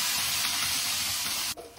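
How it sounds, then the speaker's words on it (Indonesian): Sea fish fries in a pan with a loud, dense sizzle and crackle up close, cutting off abruptly near the end with a small clink. "Kita goreng ikan lautnya"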